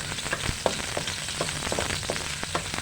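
Garlic sizzles and crackles in a hot pan while it is stirred, with steady frying hiss and irregular light popping and scraping, close and moderately loud, for a chicken feet dish.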